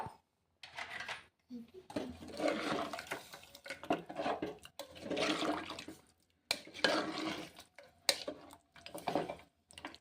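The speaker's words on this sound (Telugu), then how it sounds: "టూ గ్లాస్ వాటర్ వేసుకొని ఇప్పుడు మంచిగా కలపాలి" Water sloshes and swirls in a metal pressure cooker pot in uneven bursts as water is stirred into mutton paya curry, with light clinks of a utensil against the sides.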